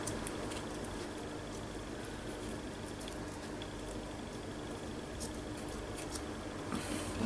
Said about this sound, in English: My scissors are getting blunt.